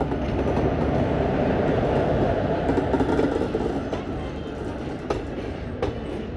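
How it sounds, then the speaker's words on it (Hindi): A train rumbles along the tracks near Ambala Cantt, with a steady roar and faint clickety-clack that eases slightly toward the end, heard from aboard a Delhi–Fazilka Intercity Express. "एक ट्रेन आ रही है भाई,"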